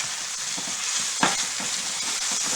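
Yams and carrots steam-fry in a pan with a close, steady sizzle while a utensil stirs and scrapes them, one sharper clack standing out midway.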